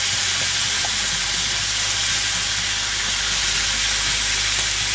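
Scallops searing in a hot oiled pan, a loud steady hiss and sizzle close by that holds evenly for the whole clip.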